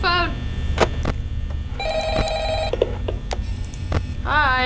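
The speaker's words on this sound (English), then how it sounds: "Come on, answer the phone." Telephone ringing in the Five Nights at Freddy's video game, repeated electronic rings cutting in and out loudly over a steady low hum, with a player speaking between them.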